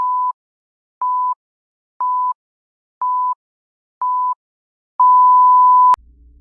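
Countdown timer sounding five short, evenly spaced beeps one second apart, then a longer final tone that cuts off abruptly, loud, clean and alone.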